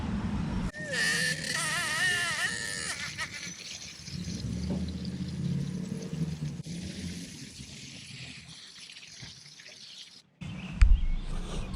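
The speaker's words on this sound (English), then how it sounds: "So now I'm going to water it in." Water poured from a can or hose onto a newly planted tomato in a garden flower bed, a steady splashing trickle soaking into the soil for several seconds, then a brief louder knock near the end.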